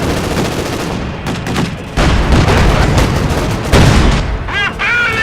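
A Company of Heroes 2 battle in which a tank is destroyed: dense, continuous gunfire and heavy booms roll on for several seconds, ending with a brief descending whistle.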